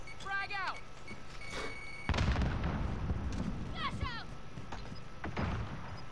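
Frag grenade exploding in the Call of Duty Modern Warfare video game, a loud broadband blast about two seconds in with rumbling debris afterward, mixed with sharp shots and players talking.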